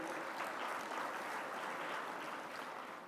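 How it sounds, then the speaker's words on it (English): At an award ceremony, an audience gives a soft, distant round of applause, an even wash of clapping that sounds faint and muffled and tapers off toward the end. "a round of applause for Susan and Debbie."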